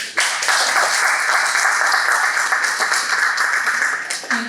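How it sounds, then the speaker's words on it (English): Steady, dense applause from a club meeting audience welcoming its incoming president, a continuous wash of many hands clapping for about four seconds before tapering off. "Give her a big round of applause."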